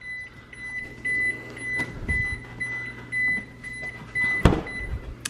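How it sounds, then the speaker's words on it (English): A refrigerator door-open alarm beeps in a kitchen, a steady high tone that repeats several times, interrupted by soft thumps and rustling of containers nearby. "Oh, that's the alarm. The fridge is telling me to close the door."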